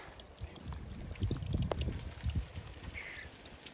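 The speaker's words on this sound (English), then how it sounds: "Waterfall there." A waterfall along the Katy Trail near Rocheport, Missouri, gives a steady, soft rush of falling and splashing water, fairly distant and continuous, with no voices.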